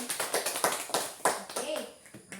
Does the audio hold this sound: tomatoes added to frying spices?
no